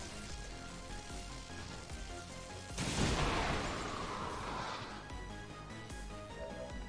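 An explosion in the video game XCOM 2, a sudden loud blast with a crackling, rumbling decay over several seconds, rising out of a steady background of game music and ambience.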